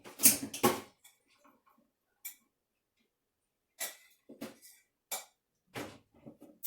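Blueberries being drained for blueberry cream bread give sparse clinks and rattles of a strainer and bowl, scattered short knocks with silence between them.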